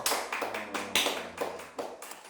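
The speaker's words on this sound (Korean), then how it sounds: "박수 한번 보내드릴까요, 우리?" Scattered hand claps and taps from a church congregation during a Sunday sermon, a handful of separate sharp hits spread unevenly across a couple of seconds, fairly close and moderately loud with no talking.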